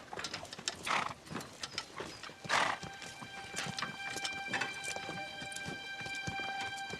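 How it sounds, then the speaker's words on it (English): A horse's hooves clip-clop in uneven steps, close at hand, along with a whinny-like burst and creaking tack or mechanical rattles, in a period drama setting. "That is Barbary. A horse."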